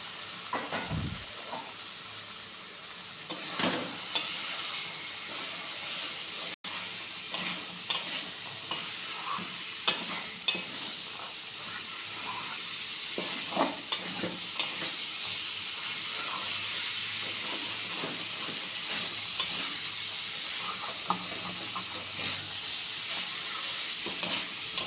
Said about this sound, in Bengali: মশলাটা ভাজা হয়ে এসছে, এবার আমি চানাগুলো দিয়ে দিচ্ছি।